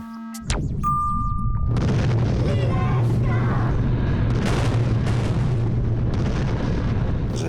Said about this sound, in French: c'est le making-of de la séquence d'explosion finale